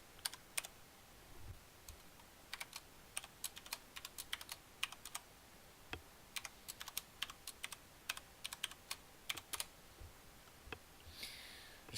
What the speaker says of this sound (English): Let me just type in my password here.